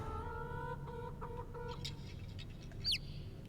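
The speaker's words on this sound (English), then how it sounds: "that chicken sounded scary as fuck" Chicken clucking from the video game Divinity: Original Sin 2, a short run of clucks over steady game background ambience, moderately close, with a brief sharp squawk near the end and no speech.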